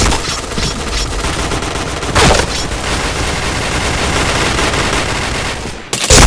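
Dense, continuous automatic gunfire and explosions from a shooter video game, loud and close, with a sharp blast near the middle and another burst at the end.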